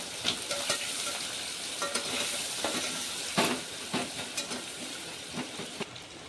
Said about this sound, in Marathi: आता आपण टाकू कांदा। छान असं मिक्स करून घ्यायचं आहे याला।